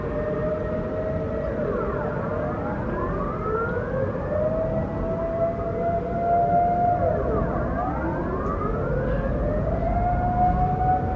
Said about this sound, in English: In the Netherlands, they have like a warning siren for basically, like, I'm guessing it's for like nuclear warfare